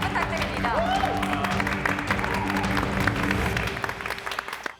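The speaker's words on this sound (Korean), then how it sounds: "큰 박수 부탁드립니다" An audience applauds steadily for a presenter at a nail-product PR presentation event, the clapping loud and sustained for several seconds before tapering off at the end, with faint voices mixed in.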